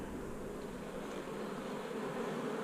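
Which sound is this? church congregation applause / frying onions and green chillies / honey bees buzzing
honey bees buzzing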